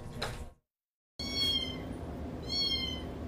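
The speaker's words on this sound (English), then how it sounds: "Cats trapped in the walls of a Birmingham apartment complex." Cats meowing from inside the walls of a Birmingham apartment, trapped there: a muffled meow, a brief silence, then two clearer, drawn-out meows close by over a steady background hum.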